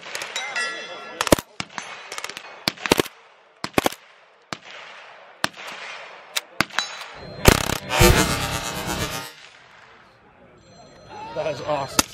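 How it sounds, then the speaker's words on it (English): A fully blinged-out AK-47 fires on full auto at an outdoor range day: sharp single cracks, then a dense rapid burst in the middle and a few more shots, with voices in between. "AK-47. See if we can shoot it."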